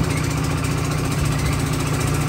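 Old engine driving a traditional sugarcane mill for rapadura making on a rural farm in Paraíba, Brazil, running steadily with a loud, continuous low throb and mechanical rattle close by, no voices.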